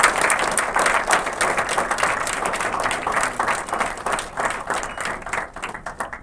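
Applause for the hospital team at the Kauvery Institute of Brain and Spine in Chennai, a fairly dense crowd clapping that swells and thins in waves, loud and close.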